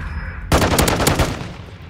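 A loud, close burst of rapid automatic gunfire in Call of Duty MW2 search-and-destroy play, starting abruptly and rattling for about a second before trailing off.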